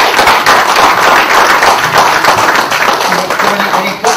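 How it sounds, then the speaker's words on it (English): Applause from an audience at a public talk on the Union Budget 2013, a steady wash of clapping lasting several seconds with a few voices mixed in. "Give a applause to him."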